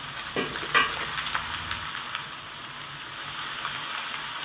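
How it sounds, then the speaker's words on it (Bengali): Cut potatoes frying in hot mustard oil while being stirred, a loud continuous sizzle with occasional spoon scrapes and sputtering pops near the start, and no voices. "আমি দিয়ে দিলাম ডুবো ডুবো করে কাটা আলুগুলো আলুগুলোকে নেড়ে চেড়ে সুন্দর করে ভেজে নিতে হবে"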